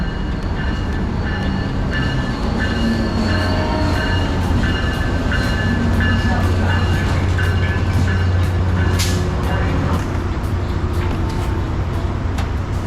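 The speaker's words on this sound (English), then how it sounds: "Is that our train coming? I hear it." A loud train arriving at a station rumbles and clatters steadily close by, with metallic squeals and screeches over the continuous roar of the cars.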